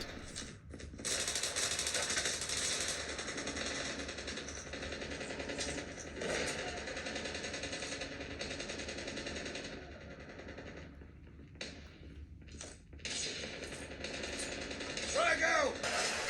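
Rapid automatic gunfire from Call of Duty Mobile, a Tencent shooter, played on an Amazon Fire HD 8 Plus tablet. It is loud and nearly continuous, with brief lulls near the end.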